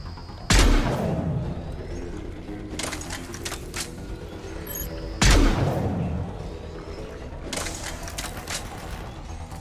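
Video game gunfire as an enemy collector shoots, with two heavy booming blasts several seconds apart over a steady mechanical rattle and hum.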